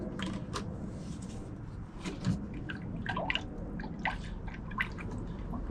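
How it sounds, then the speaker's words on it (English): Air bubbles burping out of the coolant system of a Jeep Rubicon, close-up with scattered gurgles, drips and small squishy pops over a steady low background hum. "So we're burping those bubbles out."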